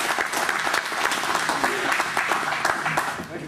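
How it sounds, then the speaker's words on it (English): An audience at a Sons of Confederate Veterans meeting applauds steadily, a dense patter of clapping that holds at a fairly even level throughout the short stretch. "let's give Dr. Stuart Towns a round of applause"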